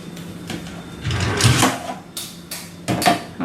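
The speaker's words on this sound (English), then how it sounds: "And then you put it in the drawer." A drawer in a home is pushed shut after a toddler's scrub brush is put away, giving a few close, sharp knocks and a sliding thud with short pauses between them.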